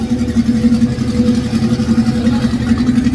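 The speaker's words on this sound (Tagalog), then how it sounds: "This is a Toyota Corolla DX." An old Toyota Corolla DX engine idles with a steady, throbbing low rumble and a slightly uneven pulse, close by and continuous with no talking.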